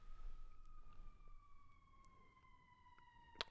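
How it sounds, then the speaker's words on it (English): A siren wails faintly in the distance, its steady tone drifting slowly downward over a quiet background, ending with a brief sharp click. "There's a siren."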